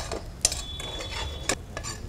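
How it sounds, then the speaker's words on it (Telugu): Cashews and raisins fry lightly in a pan for undrallu payasam, a quiet sizzle under a spoon stirring and two sharp clinks against the metal, with no voices. "సో లైట్గా ఫ్రై చేసుకుందామండి"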